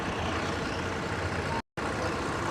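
A tourist bus engine runs in Thessaloniki, a loud, steady broadband rumble that cuts out for a moment and then resumes.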